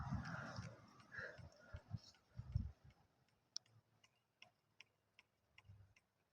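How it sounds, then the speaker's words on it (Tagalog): A faint, regular ticking from a leaking bicycle tire valve being pumped repeats about every half second, following a few muffled bumps and rustles near the start. "Binobomban ko siya pero pinapalpitik niya lang yung hangin."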